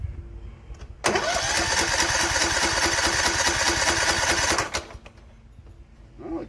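A Cub Cadet LTX1045 lawn tractor engine cranks over for about three and a half seconds in a loud, steady, rapid chugging burst, then stops abruptly, leaving quieter background noise.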